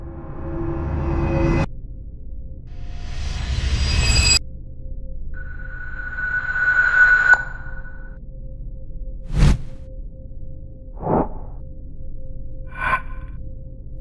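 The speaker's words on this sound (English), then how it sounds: "Transitions and risers." Transition and riser effects from a sound effects library: a swelling noisy rise, a second brighter build, then a sustained tonal sweep followed by three short sharp swishes, all without voices.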